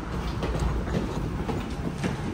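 A Tokyo subway train on the Fukutoshi line rumbles along with a low steady roar and faint rhythmic rail clatter, heard from inside the carriage with no talking.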